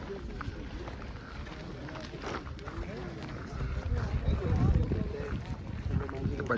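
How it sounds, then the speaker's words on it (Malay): Gusty wind in the Dolomites mountains buffets the microphone in a steady roar that builds louder toward the end, with people talking underneath. "Berangin lah masalahnya."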